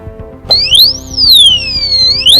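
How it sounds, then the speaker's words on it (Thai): A loud electronic anti-theft disc lock alarm wails continuously, its pitch sweeping up and down in long siren-like arcs over low background rumble. "สัญญาณจะร้องดัง อีกครั้งหนึ่งเป็นสัญญาณแบบยาว ๆ เลยครับ"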